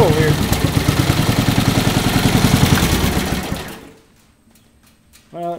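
Old engine idling: rapid, even mechanical chugging, loud and close, that runs steadily before cutting out abruptly; a voice speaks briefly at the end.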